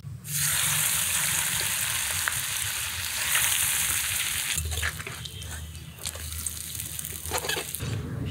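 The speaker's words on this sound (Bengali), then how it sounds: "তেলও গরম হয়ে গেছে, এখন একটা একটা করে ভেজে নেব।" Lentil-and-rice batter fritters wrapped in pumpkin leaves fry in hot oil in a wok, a loud continuous sizzle that eases after a few seconds, with occasional clatter of a utensil nearby.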